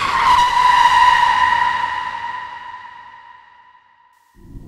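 A car skids with a loud, sustained tire squeal that fades out over several seconds as a sound effect for a car accident, followed by a brief low rumble at the very end.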